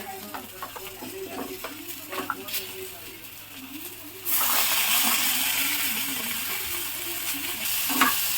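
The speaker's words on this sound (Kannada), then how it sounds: "ಟೊಮೆಟೊ ಹಾಕೊಂತ ಇದ್ದೀನಿ. ಚೆನ್ನಾಗಿ ಫ್ರೈ ಆಗಲಿ." Tomatoes and four dry red chillies fry in a pan, stirred with a steady scraping rhythm. The sizzle grows louder and fuller about halfway through, and faint talk sits under it.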